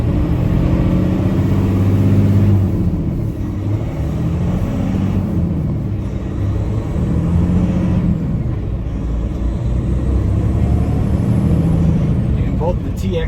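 A 2025 Peterbilt 567 day cab with a Paccar TX-12 automated transmission pulls away gently, its diesel engine a steady low rumble heard from the cab, and someone talks over it throughout.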